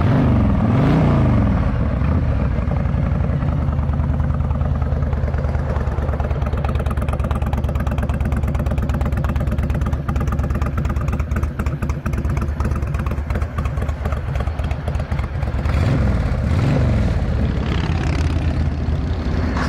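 A 2006 Honda VTX 1300 V-twin with Cobra exhausts idles with a deep, steady, loud rumble close by, revving briefly near the start and again near the end.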